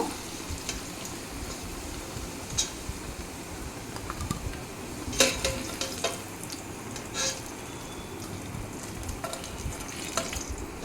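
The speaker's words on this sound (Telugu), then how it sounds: "కొద్దిగా రంగు మారే వరకు వేయించాలి" Cloves, cardamom and a cinnamon stick fry in a pan for Kolkata-style chicken biryani, sizzling softly and steadily, with occasional stirring scrapes and clinks.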